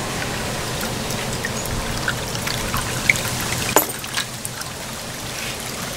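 Water trickles and splashes steadily in a Bond Bloomington cascading cup fountain, a soft continuous pouring with a few small drips standing out.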